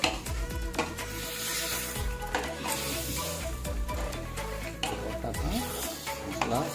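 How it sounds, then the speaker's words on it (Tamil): Two kilograms of meat stirred into masala in a pot, with a steady dense sizzle and repeated scraping, clattering strokes of the spoon against the metal throughout. "நம்ம மசாலாவில் இதை கிண்டி விடுறோம்"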